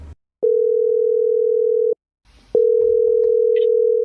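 A steady telephone dial tone sounds in two long, loud stretches, separated by a short gap with faint rustling, and no talking.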